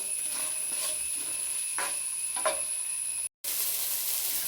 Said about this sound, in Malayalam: വെളുത്തുള്ളി, ഇഞ്ചി ചോപ്പ് ചെയ്തത് അതിൻ്റെ അകത്തേക്ക് ഇട്ട് കൊടുക്കാം. നല്ലോണം സോട്ട് ചെയ്യുക.